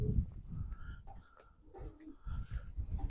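Pigeons from a breeding line coo softly in low, throaty bursts, several short calls spaced unevenly, close but faint amid quiet background rustling.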